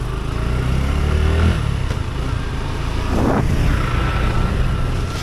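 A motorcycle engine revs and pulls away, a steady loud drone with a rising throttle sweep partway through, heard close and on its own with no talk.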